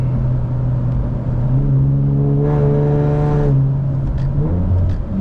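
An Infiniti Q50 all-wheel-drive car launches hard, its engine note climbing steadily in pitch as it accelerates, loud and close from inside the cabin, with no talk over it.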